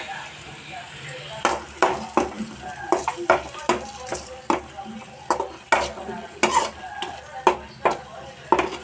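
Carrot halwa frying in a kadai, with rhythmic stirring strokes scraping the pan over a soft steady sizzle, repeating roughly every half second, close and clear, and a voice briefly audible in the background.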